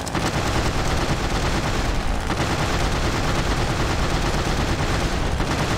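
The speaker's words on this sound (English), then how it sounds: "I wonder if I can actually destroy the gates with machine gun fire." Sustained, dense machine gun fire from an aircraft in the Secret Weapons Over Normandy game, aimed at gates, forms a loud unbroken rattle over a steady engine and battle roar throughout.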